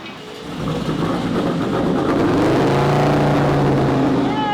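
An LS V8-swapped Audi Quattro fitted with four diesel turbochargers runs up on an all-wheel-drive dyno, its engine note climbing steadily in a loud, continuous rising roar that builds and holds throughout.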